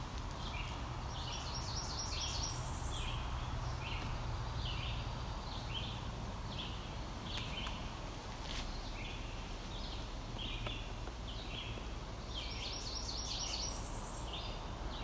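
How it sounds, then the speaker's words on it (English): Faint red-eyed vireos sing short, repeated phrases in the distance over a constant hiss of outdoor background noise. "Can you hear the red-eyed vireos in the background?"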